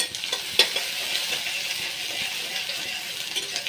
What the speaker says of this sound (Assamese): তেল গৰম হ'লেই মোৰ এয়া, লগতে মই পিঁয়াজ জলকীয়া একেলগে দি লওঁ